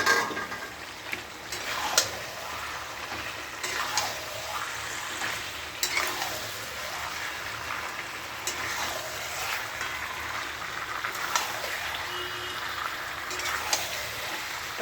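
Water goes into a pan of fried potatoes, whole garlic and chicken curry, a rushing, splashing hiss that comes in repeated surges over a low sizzle, with no one speaking.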